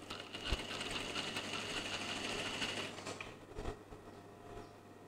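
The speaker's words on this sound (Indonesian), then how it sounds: "Lepas tu kita jahit satu tapak eh." A sewing machine stitches children's clothing with a steady, close mechanical whir that runs for about three seconds and then eases into lighter, intermittent clatter and faint handling noise.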